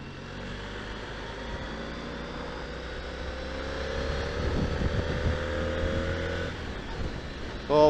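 A car overtakes another vehicle on a 60 mph road, its engine drone building and rising in pitch as it pulls past, with wind noise throughout and a sudden loud bump at the very end.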